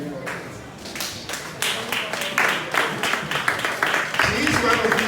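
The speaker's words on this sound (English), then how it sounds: "Clap and give her a standing ovation." An audience at a press launch claps in a standing ovation, the applause building into steady, fairly close clapping over a few seconds.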